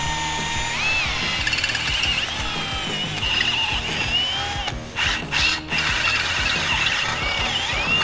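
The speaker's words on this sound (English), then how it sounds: "We'll do a 1/4-inch pilot hole and we'll run it through." A power drill bores a 1/4-inch pilot hole through metal for custom parts on a supercharged Bronco II, a steady grinding whir with ratcheting mechanical clicks, briefly pausing and resuming near the end.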